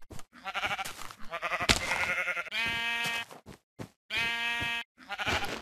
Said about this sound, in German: Da ist noch ein Schaf.